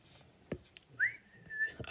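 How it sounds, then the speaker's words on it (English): A person whistles a short catchy tune, a clear rising note followed by a held tone, set among faint clicks and quiet room noise. "Ah, dang, I'm whistling it now."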